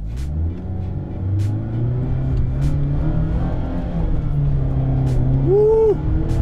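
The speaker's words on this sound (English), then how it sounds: "gotta listen to the engine" A car engine revs up and holds a loud rumbling drone, pitch climbing and settling, with a few sharp clicks and a brief whine near the end.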